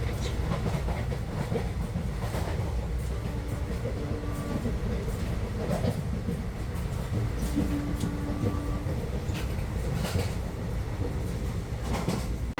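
Nilgiri Express passenger train running overnight from Coimbatore to Chennai, a steady loud rumble of wheels and carriage noise with faint rhythmic clatter throughout, heard from inside the coach.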